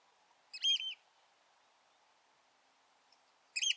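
Eurasian oystercatchers on the shore at Shellness, England give two brief, high piping calls about three seconds apart, fairly faint over near-silence.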